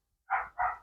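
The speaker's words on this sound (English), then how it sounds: "the dog's down the way in the kennel barking" Two quick barks from a dog in a kennel, fairly close and sharp, one right after the other with nothing else around them.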